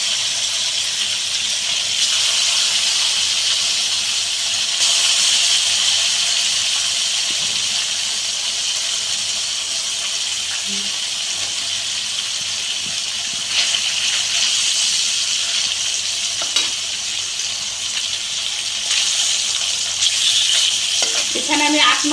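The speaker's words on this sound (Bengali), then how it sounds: "বাকিগুলো ভেজে নিচ্ছি।" Pieces of rohu fish frying in hot oil, a steady loud sizzle and crackle with occasional bursts and stirring clinks, no voices over it.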